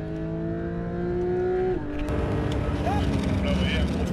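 A Porsche GT3 on Circuit Paul Ricard, its engine droning in a steady high tone that suddenly drops under hard braking, followed by rougher engine and tyre noise with a brief whine, all loud and close.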